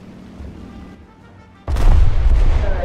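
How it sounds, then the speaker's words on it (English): Anti-aircraft gunfire in the IL-2 flight sim video game, a sudden loud burst of heavy booming shots that hits midway and carries on densely over the low rumble of the aircraft. "Gonna get away from those AA guns."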